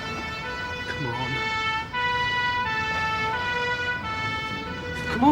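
An ambulance siren wails steadily and loudly throughout, its two-tone pattern close and constant, with faint background sounds and brief voices in a tense British police drama scene.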